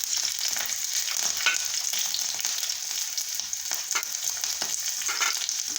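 Green chillies fry in hot oil in a pan with a bright, continuous hissing sizzle and scattered small crackles, close and steady throughout, with no speech.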